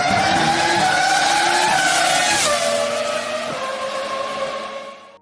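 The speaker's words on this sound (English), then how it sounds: "Fernando Alonso lit up the Yas Marina circuit for 3 days in his championship-winning R25 car" A championship-winning Renault R25 Formula One car screams past on the Yas Marina circuit, a loud high-pitched engine note that drops in pitch through gear changes and fades as it moves away, with no voices.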